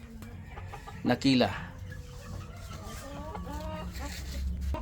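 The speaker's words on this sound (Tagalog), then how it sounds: "ito yung mga original talaga na mga Buff Orpington" Buff Orpington heritage chickens cluck in a backyard flock, with a short louder squawk near the start followed by steady soft clucking, while a person talks over them.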